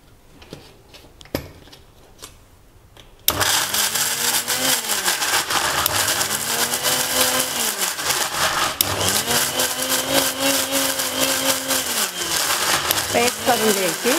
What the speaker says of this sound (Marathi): पण मिक्सरमधून बारीक करून घ्यायचं।